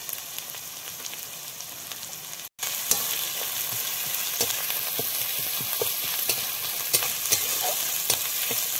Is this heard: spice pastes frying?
yes